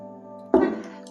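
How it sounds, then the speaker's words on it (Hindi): A single short cough breaks through a steady background hum, fairly close and abrupt, fading quickly. "थोड़ा वीडियो रुका, खांसी सी आ गई थी"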